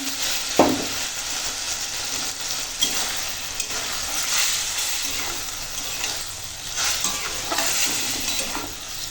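Okra sizzles and cooks in a pan after a little water is added, with a steady frying hiss and repeated scraping stirs throughout, close and fairly loud.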